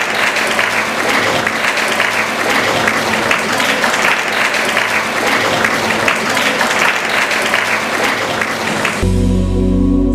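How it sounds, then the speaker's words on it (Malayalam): Long, dense applause from an audience at a training session for students and parents, steady and loud for several seconds before cutting off abruptly into a low hum near the end. "മറ്റെല്ലാവരും അവർക്ക് വേണ്ടി ഒരു മനോഹരമായ കയ്യടി"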